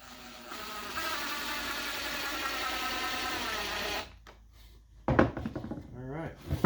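Power driver sinking a screw into a wooden canvas frame, a steady whirring drill run for about four seconds that stops abruptly, followed by clattering handling noises and a voice.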